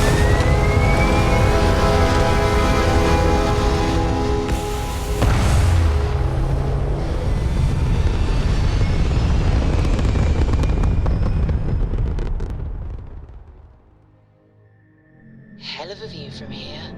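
A spaceship lifting off in Starfield gives a loud, sustained broadband engine roar with rising tones, holding strong for about twelve seconds before fading, then brief electronic chirps near the end; game voices speak over it.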